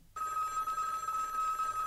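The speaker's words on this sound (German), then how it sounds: "So kam es, dass das Telefon wieder klingelte" An old telephone bell rings steadily and loudly for nearly two seconds in a workshop scene of a 1970s German radio play, starting abruptly after a brief silence.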